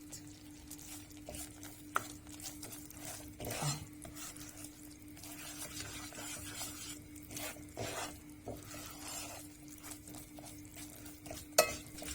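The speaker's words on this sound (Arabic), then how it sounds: "انا عماله ايدي فيه بقلب عشان ما يلزقش من تحت او يتحرق مني من تحت" A spoon stirs and scrapes thick mughat in a pot as it roasts and darkens, kept moving so it will not stick or burn on the bottom. Soft, steady scraping runs with a light sizzle and occasional sharp clinks of metal, and nobody speaks.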